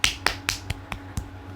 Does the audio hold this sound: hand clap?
yes